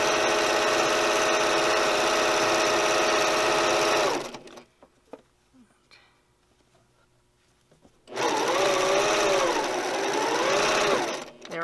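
Sewing machine back tacking a seam on a tote bag, two loud sustained runs of stitching with a quiet pause between them, the second run wavering in speed.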